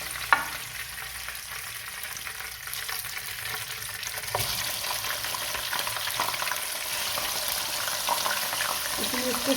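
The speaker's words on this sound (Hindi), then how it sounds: "इसको थोड़ी देर भूनना है हमने, थोड़ी सी आँच तेज कर दूँगी।" Mutton trotters, with head meat and tongue, sear in a pan in a continuous close sizzle. A sharp clatter comes near the start, and stirring scrapes run through as the frying builds slightly louder.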